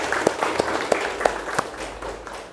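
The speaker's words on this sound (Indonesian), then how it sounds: "Berikan tepuk tangan buat Zahra." A small classroom group of pupils claps for a classmate after her lesson reflection, a few sparse, uneven claps, fairly close and quiet, tapering off within seconds.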